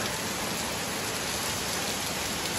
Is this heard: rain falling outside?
yes